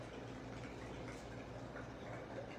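Prime 47 whiskey pours in a continuous liquid trickle into a metal jigger, a steady close-up splash with no voices.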